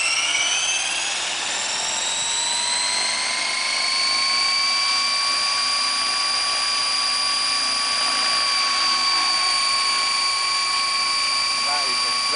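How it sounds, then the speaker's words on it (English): A Flasher 600E Sport RC electric helicopter with a Phoenixtech DT5035 1000kv motor and SR100A ESC spools up in governor mode, a loud steady whine whose pitch climbs and then holds, close by and without talk. "raise the throttle to about just under half stick, and the model just starts spooling up on its own"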